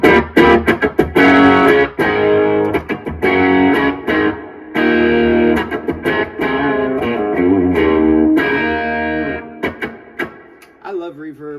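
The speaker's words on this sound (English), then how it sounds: "I love reverb." Electric guitar playing chords and melodic lines drenched in lush reverb, notes ringing and washing into each other, loud and up close, no voices.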